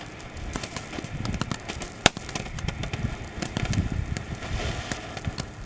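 A Shogun Golden Blossom Flower, a 7-inch assorted consumer fountain with a crackling star, fizzes and crackles steadily outdoors, with dense popping and one sharper bang near the middle.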